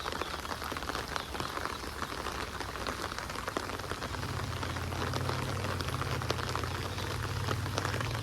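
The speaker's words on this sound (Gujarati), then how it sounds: "લગાતાર વરસાદ ચાલુ જ છે" Steady unseasonal rain patters down continuously on a surface in a village, dense and even throughout, with a low droning hum joining partway through.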